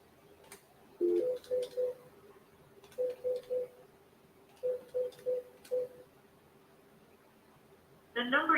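Telephone keypad tones beep in three quick bursts of three to four presses each, clear and close over a faint hum, followed by a brief burst of noise at the end.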